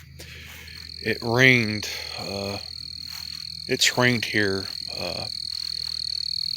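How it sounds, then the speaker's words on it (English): Frogs croak in loud, close, repeated bursts over a steady high cricket trill in a front yard by the woods on a clear evening after rain, while a person talks quietly in between. "Enjoying the sound of the crickets and the frogs in the background."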